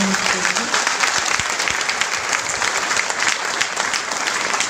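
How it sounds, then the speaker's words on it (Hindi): Sustained, dense applause fills a hall during an annual sub-centre festival and teacher honouring ceremony in India, a steady crowd roar of many hands clapping at even loudness throughout, with a faint voice briefly audible at the start. "जोरदार तालियों से धन्यवाद।"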